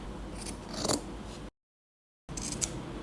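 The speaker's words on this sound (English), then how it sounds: "Now let's cut the corner of the fabric." Scissors snip through the corner of sewn fabric while a headband bow is being made, giving two crisp cutting bursts in quick succession, a pause, then another short snip, close and fairly quiet with no talking.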